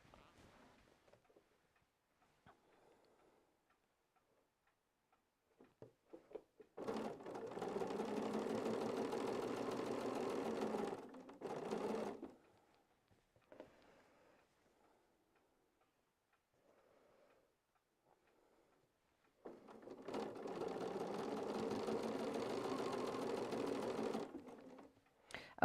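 A sewing machine stitches fabric scraps in a home sewing room, with two steady, fast-ticking runs of several seconds each separated by quiet pauses, close and clear.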